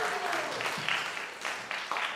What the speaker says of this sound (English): Clap it up if you have.